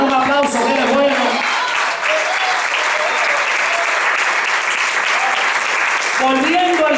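A church congregation at a special worship service bursts into loud, dense applause that runs steadily for several seconds, with a voice speaking over the opening and closing moments.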